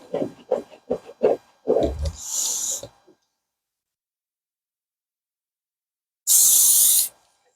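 Adhesive remover sprayed from an aerosol can onto the body of a 2005 Toyota Corolla: a short hiss, a string of brief murmured sounds, then after a quiet gap a second loud spray burst of about a second.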